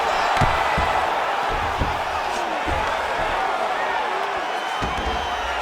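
An arena crowd roars and cheers steadily at a mixed martial arts fight after a long grappling exchange, a broad wash of noise with scattered thuds and shouts, loud and continuous throughout.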